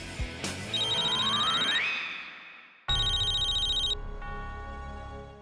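A phone ringtone plays a bright electronic melody, cuts off briefly, then starts again, fairly quiet and with no one talking.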